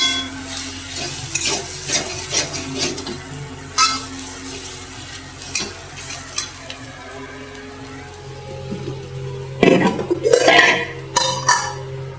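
Cauliflower curry is stirred in a pan. A steady frying sizzle sits under repeated scrapes and clinks of a spoon against the metal, with a louder clatter of utensils near the end.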